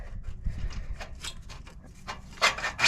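Shock absorber reservoir slid into its clamp with a long Allen head bolt, giving short close rubbing and scraping sounds that end in a brighter metallic scrape.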